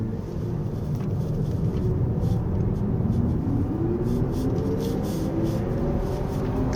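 Hyundai IONIQ 6 Long Range AWD electric sedan accelerating harder on a winding road, a rising synthetic drive tone layered over steady road and tire rumble, fairly loud and continuous with a pitch that climbs toward the end.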